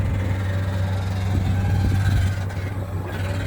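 Komatsu PC200-8 excavator engine rumbling at a sand pile, a steady low droning growl with a strong bass hum, loud and close, easing slightly near the end.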